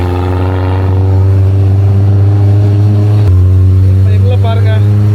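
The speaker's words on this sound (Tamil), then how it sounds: "வண்டியோட சவுண்ட் கேளுங்க மக்களே" A jeep on the Mount Batur sunrise ride in Bali drones loudly and close, a steady tonal roar that shifts pitch partway through as the engine revs, with voices briefly audible near the end.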